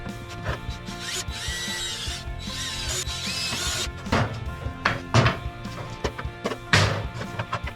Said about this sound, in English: And then we'll go ahead and drill some small pilot holes for the screws.